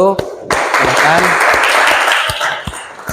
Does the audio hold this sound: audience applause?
yes